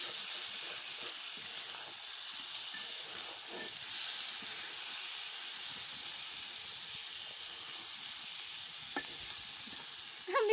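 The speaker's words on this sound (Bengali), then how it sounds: "আমি রান্না করতে বসলে মানে ইচ্ছে মতো নাড়তে থাকি, কোনো শান্তি দিই না।" Food sizzles steadily in a hot pan while it is stirred without letup, a soft continuous frying hiss with faint scraping of the stirring mixed in. Nobody speaks.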